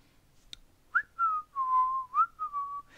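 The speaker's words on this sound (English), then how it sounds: "whistling sounds terrible on this" A person whistles a short, monotonous tune up close, a few sliding, wavering notes in quick succession after a single click.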